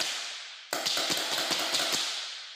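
Playback of recorded paintball gun fire: a fading hiss broken by a sharp crack, then a rapid uneven volley of snapping pops, loud and noisy with no voices.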